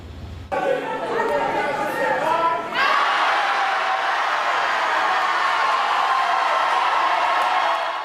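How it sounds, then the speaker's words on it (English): A packed auditorium of opponents shouting down a Thornton Township supervisor nomination: a roaring mass of overlapping voices and jeers swells suddenly, then holds loud and sustained, with a nearer voice briefly cutting through at the start. "That is the sound of an auditorium full of Tiffany Henyard opponents rejecting her nomination"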